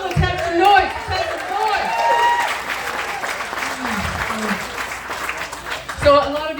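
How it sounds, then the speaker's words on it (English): Audience at a comedy show at Old York Cellars cheers and claps loudly for several seconds, with a host's voice speaking over and between the noise. "You guys ready for a full show? Let's have some noise."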